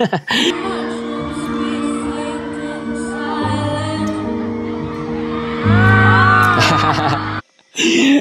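Fans scream, whoop and cheer loudly at a live concert performance, the crowd noise surging over sustained music and swelling near the end before a brief drop-out.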